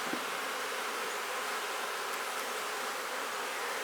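Honey bees swarm around an open hive during beekeeping work, a dense, steady buzzing drone that stays even and close throughout with no talk.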